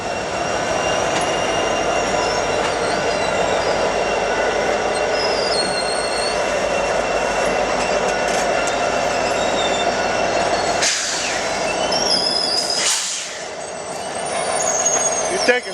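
A circus train rolls slowly past on rails in Newport News, Virginia, a steady, loud rumble of wheels and cars with metallic screeches, continuous throughout and easing slightly near the end.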